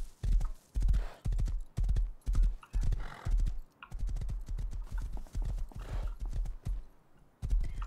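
Horse hooves clip-clop in a steady, rapid rhythm as a horse is ridden in the survival game Rust, close and loud throughout, with a brief whinny-like sound mixed in and no speech over the hoofbeats.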